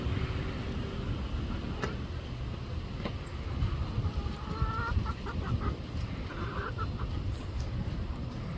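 Chickens cluck and call softly in the background amid outdoor ambience, several short bursts scattered across the clip.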